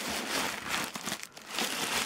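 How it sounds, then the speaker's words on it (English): Tissue paper crinkling while a makeup palette box is unpacked, close and fairly loud, a continuous rustle with irregular crisp crackles and brief pauses. "rest of the box is tissue paper."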